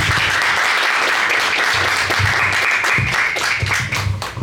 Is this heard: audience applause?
yes